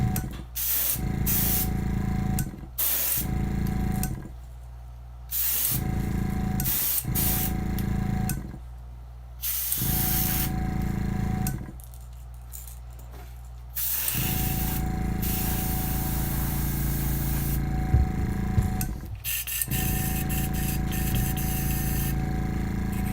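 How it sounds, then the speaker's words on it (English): Bursts of an airbrush hiss on and off repeatedly, spraying fluorescent orange paint on the belly of a 3D-printed crankbait fishing lure, several long sprays separated by short pauses, close and steady. "I'm gonna spray the belly"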